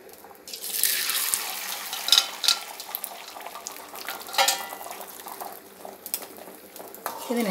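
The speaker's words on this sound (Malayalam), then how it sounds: "എണ്ണ ഒന്ന് ചൂടായി വരുമ്പോഴത്തേക്ക് നമ്മൾ ഈ മിക്സ് ചെയ്ത് വെച്ചേക്കുന്ന മുട്ട അതിനകത്തോട്ട് ഇട്ട് കൊടുക്കാം." Beaten egg poured into hot oil for restaurant-style egg fried rice sizzles and crackles up close, a bright spitting hiss with irregular pops and the occasional scrape of a utensil.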